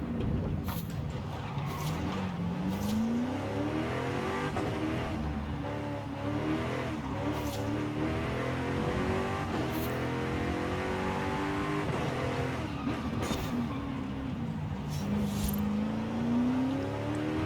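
A V8 race car engine in Forza Horizon revs and climbs through gears, a continuous buzzing roar with rising pitch sweeps and shifts, fairly quiet and steady throughout.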